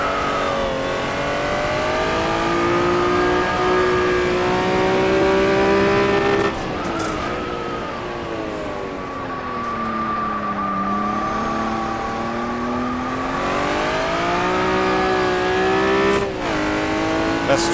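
A Honda NSX in a racing video game mod, its engine revving loud and close through rising and falling gear changes with a brief tire squeal, no voices over it.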